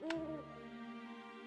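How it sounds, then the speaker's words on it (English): Owl hooting in the video game Heroine's Quest after heavy snow has stopped: one clear, tonal hoot with a falling pitch, followed by a lingering, sustained drone, fairly quiet and with no talk. "I hear an owl."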